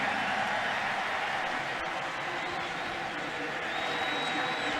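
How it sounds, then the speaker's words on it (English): A football stadium crowd at a 2009 Philadelphia Eagles at Carolina Panthers game roars and applauds in a steady, dense wash, with a commentator talking over it. "And this crowd into it as Williams carries up to the 47-yard line"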